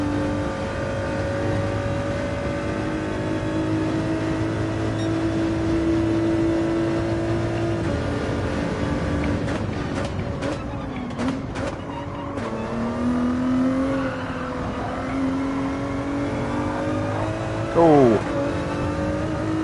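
A race car engine drones steadily and loudly at Road Atlanta in a racing video game, with pitch rising and falling through gear changes and braking, a brief squeal near the end, and a voice talking over it.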